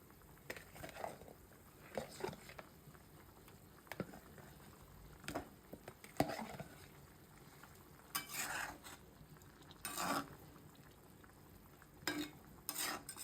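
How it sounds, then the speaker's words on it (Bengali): Hilsa fish going into a pan of green banana curry, soft sizzling with repeated scraping and stirring clinks of a spoon against the pan, quiet and close, with no talk. "এখন দিয়ে দেবো ইলিশ মাছ"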